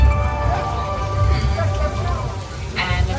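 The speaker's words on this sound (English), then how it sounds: "We got rain coming down on the left side" Artificial rain pours steadily onto the flash-flood set of the Universal Studios Hollywood backlot, a loud continuous hiss and patter close at hand, with a voice talking over it.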